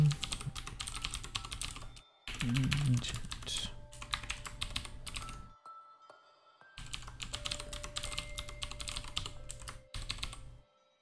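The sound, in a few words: typing on a mechanical computer keyboard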